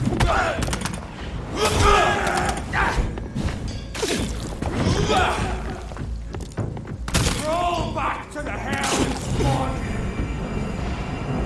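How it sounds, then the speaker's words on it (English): Gunfire aimed at the player in the game Vampyr, a string of sharp shots and thuds mixed into busy combat noise, fairly loud throughout the stretch. "someone else is shooting us"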